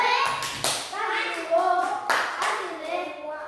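Children in a classroom clap for a classmate, a short burst of quick, close hand claps with young voices chattering over them.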